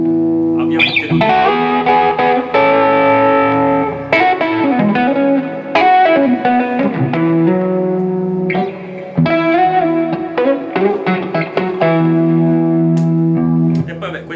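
A Stratocaster electric guitar played through its neck pickup, with strummed chords and picked single notes in a continuous phrase, loud and close, with no talking.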